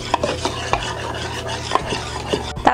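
Rice flour, glutinous flour and cocoa powder are stirred together in a bowl, producing soft scraping and rubbing strokes with light ticks of the utensil against the container, close and quiet, with no talking.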